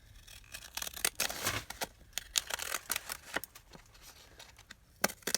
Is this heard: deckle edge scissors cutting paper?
yes